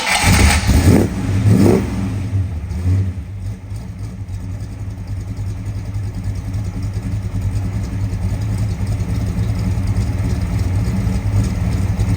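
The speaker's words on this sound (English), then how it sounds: "let me start this thing up for you guys so that you guys can hear it kind of chop out" A restored 1982 Ford Mustang GT with a carburetor and a modest cam cranks and fires up, gives a couple of sharp revs, then settles into a loud, steady, slightly choppy idle up close.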